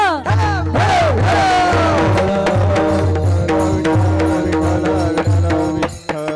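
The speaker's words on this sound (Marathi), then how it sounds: "मोकळ्या टाळ्या वाजवा" Audience at a Marathi kirtan clapping in steady rhythm along with loud devotional singing and harmonium, the claps forming a regular beat under the music in a lively hall.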